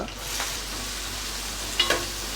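Onions tipped into hot oil already crackling with bay leaf, cumin and green chillies for an Andhra-style chicken curry, giving a steady low-flame sizzle with a brief louder burst of spattering near the end and no voices.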